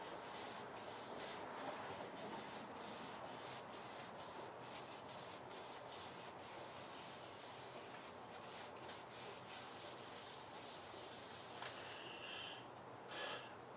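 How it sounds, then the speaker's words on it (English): Finish rubbed into a salvaged wooden piece by hand, without power tools, making a continuous close, breathy rubbing and swishing with steady strokes throughout, fairly quiet and with no talking. "I'm going to rub in the Shine juice."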